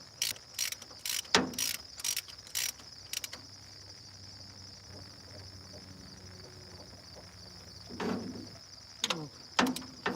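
Ratchet wrench clicking on a Massey Ferguson tractor, with bursts of sharp ratcheting near the start and again around the end, separated by a quieter stretch with faint background insect chirping.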